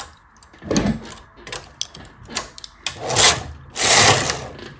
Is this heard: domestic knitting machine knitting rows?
yes